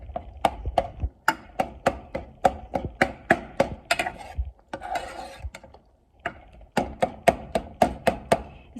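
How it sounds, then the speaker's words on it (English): Knife chopping ingredients for burritos on a cutting board, a steady run of crisp, evenly spaced chops with a brief pause midway before the rhythm resumes, close and clear with no talking. "I usually chop them up in halves or whatever, just chop them."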